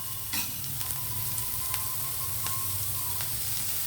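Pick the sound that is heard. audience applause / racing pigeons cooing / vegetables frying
vegetables frying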